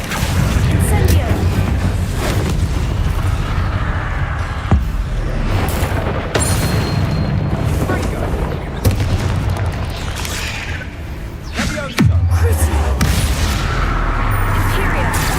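Fire spells being cast in the fantasy game Hogwarts Legacy amid continuous loud booming and crackling bursts, with heavy low rumbles and sharp impacts throughout, while a voice talks over the action.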